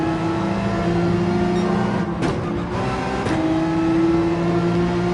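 Porsche 911 engine revving hard in Gran Turismo 7 while short shifting, a loud steady whine with two quick gear changes midway, no talking.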